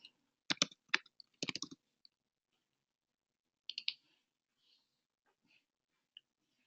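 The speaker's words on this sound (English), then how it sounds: "you can type in your card name." Sharp plastic clicks from a computer keyboard come in two quick flurries of keystrokes, then a few sparse, faint taps in an otherwise quiet room, as a card name is typed into an expense app.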